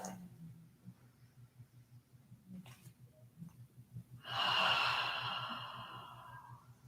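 A slow deep inhale followed by a long, breathy open-mouth exhale during a calm yoga session, close and soft, over a low steady hum.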